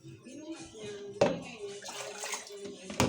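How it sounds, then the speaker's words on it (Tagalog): Broth pours into a pan of sotanghon noodles, a short wet splash and trickle close up, with a sharp clatter near the start and end and a faint voice in the background. "Lagyan natin ng sabaw."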